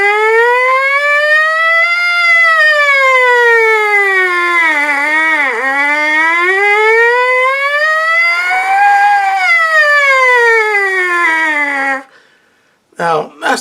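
A trumpet imitates a siren, its tone sliding up and down in long smooth wailing sweeps, loud and sustained, then cutting off with a few short blips.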